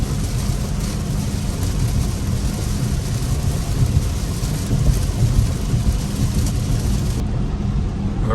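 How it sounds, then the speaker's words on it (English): Heavy rain pours onto a Tesla Model Y driving on the interstate, a dense, loud, continuous wash of drops and road noise from inside the car, unbroken until a slight drop in hiss near the end. "here comes the rain"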